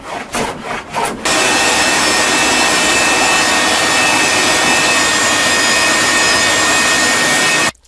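Steady, loud abrasive rasp of sanding a wooden chair leg, running continuously for most of the stretch after a few short opening strokes, with no talking.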